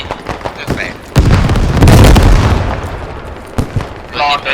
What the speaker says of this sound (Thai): โดนยิงโดนเอที